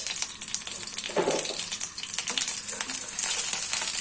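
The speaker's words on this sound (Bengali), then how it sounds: "তেল গরম হয়ে গিয়েছে প্রথমে আমি দিব হচ্ছে তেজপাতা গরম মশলা যেরকম তেজপাতা দারুচিনি আর এলাচ" Whole spices, bay leaf, cinnamon and cardamom, hit hot oil and start frying, giving a soft crackling sizzle with small pops over a few seconds and no talking.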